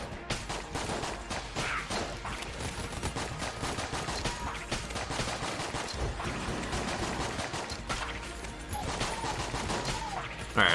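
Dense, continuous gunfire and impacts fill the action of the roguelike shooter Enter the Gungeon, with rapid overlapping shots and game music running steadily throughout.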